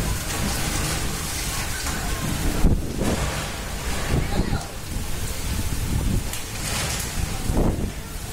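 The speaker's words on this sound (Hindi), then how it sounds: "हवा इतनी तेज थी कि उसने टीन की छत को एक तरफ से उड़ा दिया।" Strong wind from Cyclone Amphan in Howrah, West Bengal roars without a break into the microphone, with heavy gusty buffeting and a few louder bursts.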